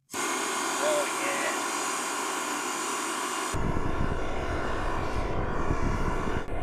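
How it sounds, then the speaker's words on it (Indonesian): Engine drone from a Stirling-engine bicycle being ridden: a steady, loud mechanical hum that shifts at the midpoint into a rougher, buzzing texture with broadband rattle, continuous throughout with no pauses. "Jadi sekarang giliran Sam naik sepeda Stirling."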